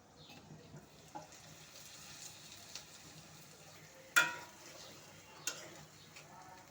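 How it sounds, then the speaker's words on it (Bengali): Bitter gourd pieces stirred in a pan after lifting the lid, a faint low sizzle with a few sharp clanks and scrapes, one louder knock midway, quiet and without speech. "আমি ঢাকনাটা নামিয়ে করলাগুলোকে একটু নেড়ে দেব।"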